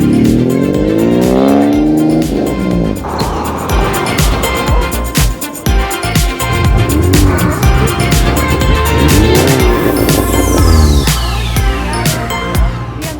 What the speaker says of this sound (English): VTEC kicking in